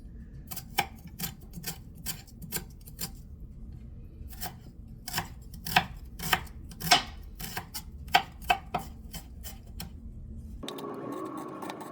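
A knife chops small garden onions on a board: a steady run of sharp, quiet taps, bunched in places and pausing briefly, with no talking. A brief shift in sound closes the passage.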